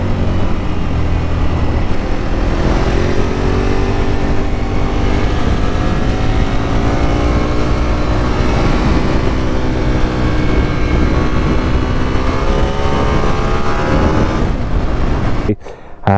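Ducati 848 motorcycle pulling hard out of a corner, a loud close engine note rising in pitch through the revs over a steady rush of wind, before cutting off abruptly at the end.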